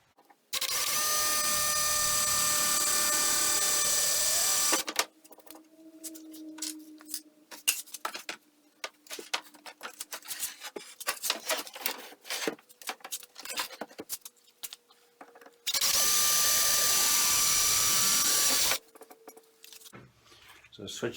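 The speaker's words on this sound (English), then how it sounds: "I'm going to pre-drill some holes" A power drill pre-drills holes into a wall to mount a repurposed china cabinet, with two loud, steady whirring bursts of a few seconds each and scattered handling clatter and faint speech in between.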